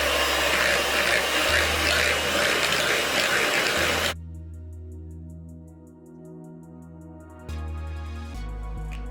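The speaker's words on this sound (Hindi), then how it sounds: "अब मैं इसे इस ब्लेंडर से, चिल्ड ब्लेंडर से हाई स्पीड पे बहुत जल्दी बीट करूँगी।" An electric blender runs at high speed whipping chilled cream, first with a loud rough whirring roar, then dropping to a smoother steady motor whine that shifts pitch a couple of times.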